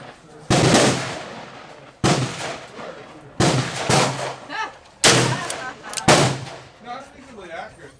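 Loud, sharp reports from a Smith & Wesson 686-6 revolver at an outdoor shooting range, five or six shots spaced about a second apart, each with a ringing decay, close and dominant.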